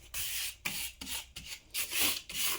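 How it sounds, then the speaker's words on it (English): A hand rubs down a repaired tile surface patched with aluminum foil, making a close, soft, raspy scrubbing. It comes in about seven short back-and-forth strokes with brief pauses between them. "I'm just going to kind of rub it down ever so slightly."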